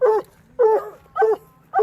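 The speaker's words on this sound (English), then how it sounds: "That one dog just doesn't shut up." One dog among a worked-up group at an RC car race barks in four sharp, evenly spaced yips, loud and close, with a faint low hum between them.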